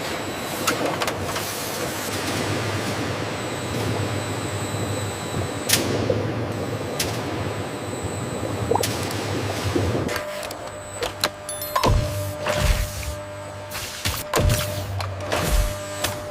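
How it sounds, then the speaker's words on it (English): A volumetric nozzle filling machine in a jackfruit dessert factory runs with a continuous mechanical hum, cut through by sharp clicks and pneumatic knocks as the nozzles dispense, and it gets choppier toward the end. "Each nozzle precisely dispenses the perfect volume, ensuring consistency."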